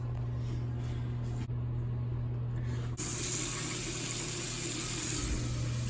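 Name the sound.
water running from bathroom vanity sink faucet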